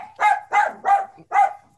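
A small dog barks four times in quick, evenly spaced yaps, loud and close, with no talking over it.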